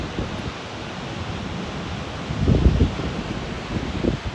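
Water spills over a dam wall into the Crocodile River as a steady, broad wash of rushing noise, fairly close, with a few louder surges near the end.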